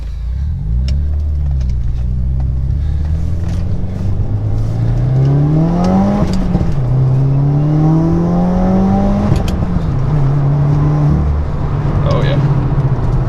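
Subaru WRX at Stage 2.5 tune pulling hard under acceleration, its engine note climbing through repeated gear pulls and dropping at each shift, loud and close from inside the car, with speech over parts of it.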